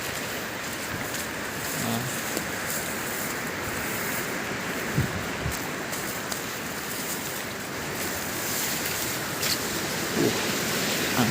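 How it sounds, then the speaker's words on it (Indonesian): Strong wind blows across a mountain trail on the way to Ngliman peak on Mount Wilis in fog, a constant broadband rushing with gusty swells, loud and close to the microphone with no voices. "Angin kencang."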